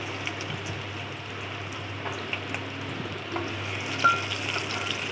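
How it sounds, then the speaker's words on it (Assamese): Onions fry in mustard oil inside a pressure cooker, giving a steady, soft sizzle with faint scraping stir sounds and a few small pops. A low hum runs beneath it, and no one speaks. "এতিয়া এটা কুকাৰত মই পৰিমাণ অনুসৰি অলপমান মিঠাতেল দি লৈছোঁ আৰু ইয়াতে এতিয়া মই অলপমান পিঁয়াজ ভাজি ল'ম"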